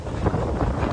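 Strong gusting wind buffets a homemade spinning toy, roaring hard against the microphone throughout with a rough, blustery rumble.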